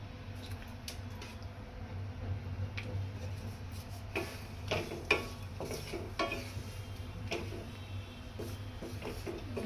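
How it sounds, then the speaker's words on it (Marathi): Almonds, added after cashews, are stirred and roasted in a pan for vermicelli kheer: soft dry sizzling under a low hum, broken by repeated ticking clicks and scrapes of the spoon against the pan. "त्याच्यानंतर बदाम टाकूया दोन मिनटं फक्त परतून घ्यायचे"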